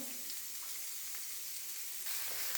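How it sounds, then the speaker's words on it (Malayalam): Chopped onions dropped into hot oil in a pan, a steady, soft hiss of frying that runs evenly throughout and swells slightly near the end. "എണ്ണ ഏകദേശം ചൂടായി വരും വരുന്നുണ്ട് അപ്പോഴേക്ക് നമുക്ക് ഈ അരിഞ്ഞു വെച്ച എല്ലാം ഇട്ട് കൊടുക്കാം"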